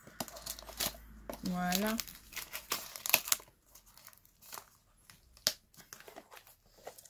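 Crinkling and tearing of cardboard and packing material, close up, with a brief spoken word and scattered clicks and rustles.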